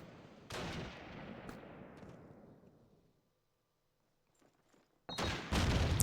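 In the video game Call of Duty 2, a grenade explosion erupts with a heavy blast that decays into a long rumbling tail and silence, followed by a sudden loud burst of gunfire at the end.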